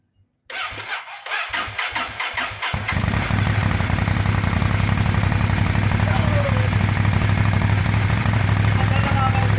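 A Ducati Monster motorcycle engine cranks with a rapid stuttering starter, catches, and settles into a loud, steady, rumbling idle that continues to the end, heard up close with no talk over it.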